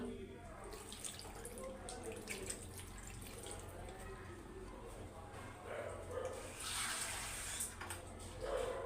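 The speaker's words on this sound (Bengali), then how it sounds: "আমি এখানে দুই কাপ পানি দিয়ে দিয়েছি" Water being poured into a pot of red lentils and spinach, with a soft continuous trickle and splashing over background noise and faint voices, growing briefly stronger toward the end.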